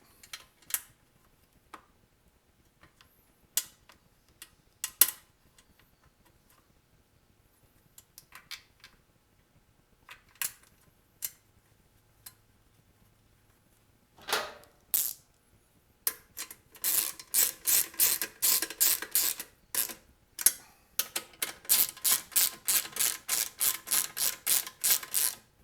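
Bolts are tightened while a gas tank is reattached: sparse faint clicks and taps at first, then a fast run of sharp ratcheting clicks toward the end, close and quiet.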